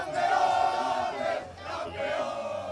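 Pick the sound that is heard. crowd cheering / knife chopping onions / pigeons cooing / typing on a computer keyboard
crowd cheering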